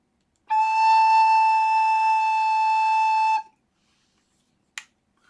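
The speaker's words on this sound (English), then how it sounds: "A high A on an alto should sound like this." A single high A on an alto recorder, high and pure, sounds clearly for about three seconds and stops cleanly, followed by a short, sharp click.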